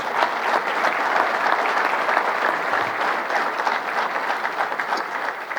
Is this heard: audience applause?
yes